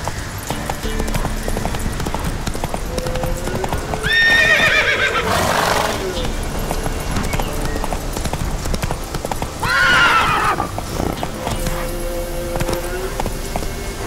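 Horse galloping in The Witcher 3 video game, a fast continuous hoof clatter with two loud whinnies partway through, all close and steady, with faint voices in the background.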